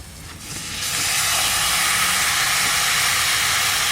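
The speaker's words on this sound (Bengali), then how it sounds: "মাখানো মাংসটা ঢেলে দিচ্ছি" Marinated meat poured into a hot large wok, a hiss that rises sharply within the first second into a loud, steady, close sizzle.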